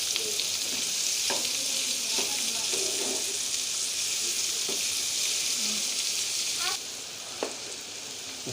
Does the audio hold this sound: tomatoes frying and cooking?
yes